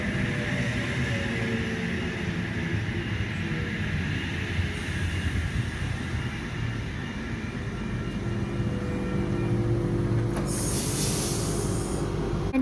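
Commuter train on the Port Kembla service pulling out of a station, a steady rumble of wheels on rail with faint squeal, broad and continuous throughout, brightening with a hiss near the end.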